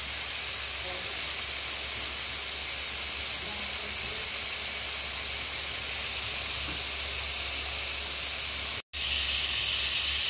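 Food browning in a hot pan gives off a dense, steady hiss of sizzling and steam that runs throughout, broken once by a brief cut near the end, with a voice faintly underneath.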